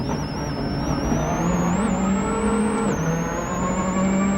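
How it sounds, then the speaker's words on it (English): A rally car at speed on a 2002 Network Q Rally GB stage, its brakes disconnected, downshifting to slow itself. The engine note rises and falls steadily and loudly, close up, with a high whine above it and no speech. "With the brakes being disconnected, Harry had to find other ways to slow the car. You can hear him downshifting."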